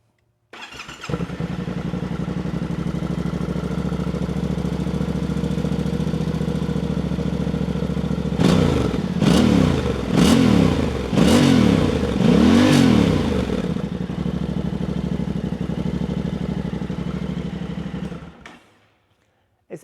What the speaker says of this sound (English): I'm going to fire it up right now real quick with the stock exhaust